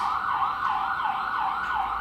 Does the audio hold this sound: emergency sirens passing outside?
yes